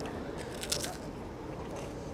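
A bite into a honeycomb-topped donut with crunchy honeycomb pieces gives a close, brief crunch near the start, then soft chewing under steady background noise.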